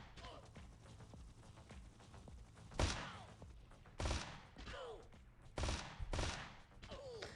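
Bursts of machine gun fire from a hyper casual mobile video game, several short rattling volleys spaced across the clip over a constant busy game soundtrack, with a voice talking throughout.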